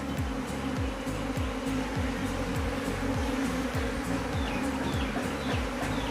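Honey bees buzz continuously up close around a queen, a dense droning hum with individual wingbeats sweeping past in repeated swells, steady and loud throughout.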